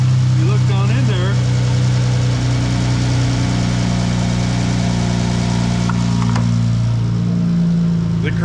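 A Dodge 3.6L engine runs at idle with its crankshaft balancer slipping on the crank, a loud, steady low drone with a faint knocking undertone while someone talks over it.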